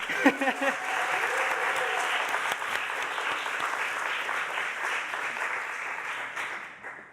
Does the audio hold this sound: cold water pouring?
no